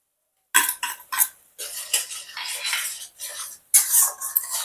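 A utensil stirs spices in a pan for a spicy tangra fish curry, making repeated scraping and clinking strokes in irregular bursts after a short silence. The sound is fairly close and clear.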